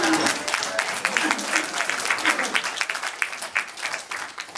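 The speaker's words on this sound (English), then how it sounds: "You're going to clap several times, so you can decide whether you want to hold it or do it every time." Audience applause at a budget meeting, a dense patter of many hands clapping for several seconds, fairly close and steady with slight swells.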